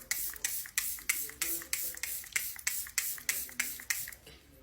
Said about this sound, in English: I think that was too much setting spray.